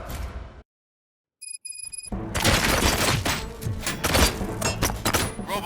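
Gunshots in the video game Robocop Rogue City, a dense fusillade of loud, close shots with thuds and impacts that breaks out after a brief silence and a few electronic beeps.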